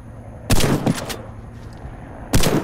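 Gunshots aimed at a distant target in the shooter game Warface, two loud, short bursts of fire separated by a quiet gap, with faint background game ambience between them.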